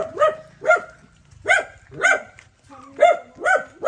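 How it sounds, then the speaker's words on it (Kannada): A dog barks repeatedly, about seven sharp, loud barks in an irregular rhythm, close by, with no talking. "ಅಲ್ಲಿ ನಾಯಿ ಉಂಟಂತೆ ಮೇಲೆ ನಾಯಿ ಉಂಟಂತೆ"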